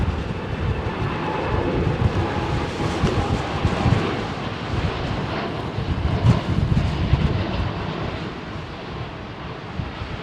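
An airliner departing Heathrow runway 27R, a loud continuous broadband roar with gusty wind buffeting the microphone, sustained throughout without voices.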